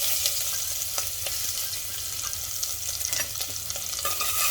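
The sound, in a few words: garlic sizzling in hot ghee with asafoetida and mustard seeds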